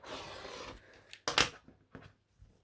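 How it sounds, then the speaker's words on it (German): Scissors or a rotary cutter slice fabric into narrow strips for a homemade face mask, giving a few short crisp cutting snips and rustles after an initial stretch of soft fabric handling. "und dann schneidet ihr daraus einfach 1, 2 bis 3 cm breiten Streifen. Mit dem Rollschneider oder der Schere"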